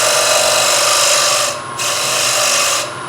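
A skew chisel cuts a wooden platter spinning on a lathe, giving a loud steady whirring scrape that dips twice in brief pauses before resuming.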